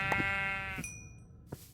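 A sheep bleats in a Minecraft server game, one clear electronic-sounding bleat followed by a short chime-like tone and a faint thump, with no speech over it.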